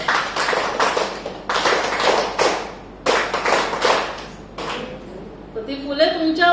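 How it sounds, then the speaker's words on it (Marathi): An audience at a cervical cancer prevention health talk claps loudly in three bursts of about a second and a half each, with brief pauses between, followed by a voice. "तर जोरदार टाळ्या एकदा पहिलं तुमच्यासाठी वाजवा"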